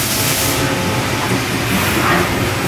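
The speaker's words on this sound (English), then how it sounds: "This is 2500 RPM, and I'm about a foot away from the spindle." A Fanuc Robodrill T21iEL drilling and tapping center spindle spins at 2500 RPM, heard from about a foot away as a loud, steady broadband hiss and rush with no pauses.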